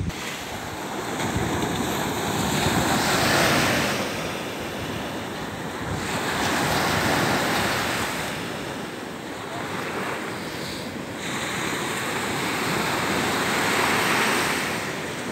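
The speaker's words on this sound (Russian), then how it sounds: "Сегодня волна, видите?" Surf rolling onto a sandy Baltic Sea beach near Zelenogradsk, backed by dunes; waves break and wash in slow, regular swells roughly every few seconds, with steady wind buffeting the microphone throughout and no voices.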